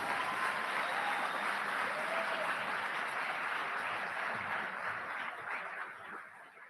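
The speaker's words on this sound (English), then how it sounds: "A round of applause for certificate and approval candidate." An audience at a college commencement ceremony applauds graduates with a steady, dense wash of clapping that holds evenly and fades slightly at the end.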